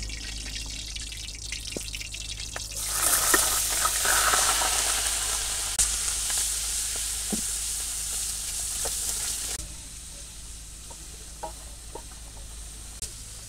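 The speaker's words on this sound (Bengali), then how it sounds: "এই আদা রসুন আর পেঁয়াজ বাটা দিয়ে দিই" Ginger, garlic and onion paste dropped into hot oil in a wok for a katla fish curry: a loud burst of sizzling that holds for several seconds, then eases to a quieter fry with stirring clicks.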